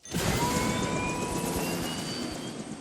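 A helicopter's broad, roaring engine noise starts abruptly and holds steady with a faint whine, loud and close, gradually easing slightly.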